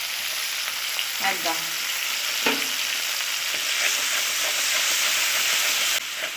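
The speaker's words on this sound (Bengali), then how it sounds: "এটা একটু কষিয়ে নেব" Ginger and cumin paste with a little turmeric being sautéed in a pan: a steady sizzle, broken by scraping stir strokes and a few utensil knocks, and a short spoken word.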